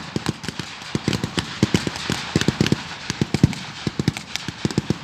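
A WW2 battle reenactment crackles with rapid gunfire: dense, irregular volleys of sharp cracks and pops, some clustered like automatic bursts, at moderate distance with no clear talk.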